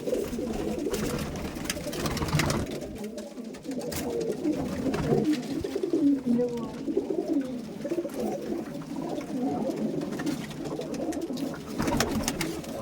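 Racing pigeons at a loft coo repeatedly, soft throaty rolling calls close by over a steady background hum, with no talk.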